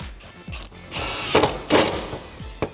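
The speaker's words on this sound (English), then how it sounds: "We can tighten those back down with our 10mm socket." A tool tightens 10mm nuts with a socket while refitting a Teraflex suspension lift kit on a Jeep Wrangler JK, giving short, loud, repeated bursts of whirring and clicking up close.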